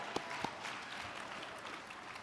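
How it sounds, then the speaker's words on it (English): Scattered applause from a conference audience welcoming Bowie State University Bulldogs: faint, distant clapping with a couple of louder claps near the start, spread thinly across a short stretch. "Give them a round of applause."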